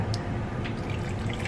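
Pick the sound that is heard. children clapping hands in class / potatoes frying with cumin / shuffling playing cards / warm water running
warm water running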